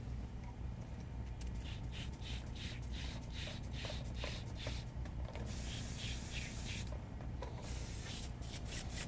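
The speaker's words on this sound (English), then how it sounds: "We rinse this out." An airbrush is rinsed out with quick repeated bursts of close spraying hiss, several short blasts and then a longer stretch, over a steady low background hum.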